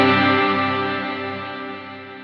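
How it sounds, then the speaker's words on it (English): A single chord on a Tele-style electric guitar rings out loud and sustained through a Sonicake Levitate reverb pedal, its reverb tail slowly fading over a couple of seconds. "if we strum a chord, the reverb starts to trail off"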